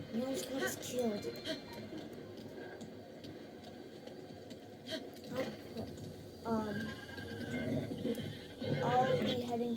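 A horse whinnies a couple of times amid hoofbeats and game ambience in The Legend of Zelda: Breath of the Wild, with a voice talking over parts of it.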